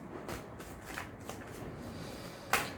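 Tarot cards are shuffled by hand in a series of soft, riffling flutters with brief pauses between them, ending in a slightly louder slap of the deck, close and quiet with no talking.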